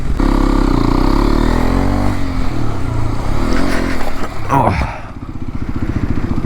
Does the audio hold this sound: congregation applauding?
no